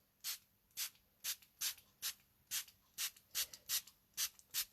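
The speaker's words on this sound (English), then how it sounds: "I'm going to spritz the rest of this" Repeated spritzes from a spray bottle of water, dampening a papercraft project at a stamping table: about twelve short, close hissy bursts in a steady rhythm, with no talk over them.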